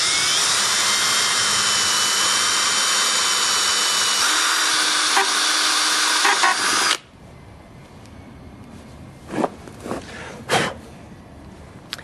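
A power drill running continuously while boring into lumber with a 3/32 drill bit, loud and steady for about seven seconds, then cutting out to quiet with a few short knocks and scrapes.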